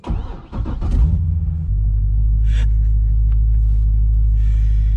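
Corvette C6 Z06 engine catching and then settling into a steady, deep idle rumble, close and loud, with a few faint clicks and rustles over it and no talk.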